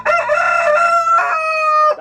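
A rooster gives a single loud, close, drawn-out crow lasting about two seconds, clear and alone with no talking.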